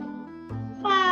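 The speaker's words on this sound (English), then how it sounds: "Meow, said the cat." A cat meows in a children's story: one short, tonal meow with a second call that rises in pitch and grows louder at the end, heard alone with no talking.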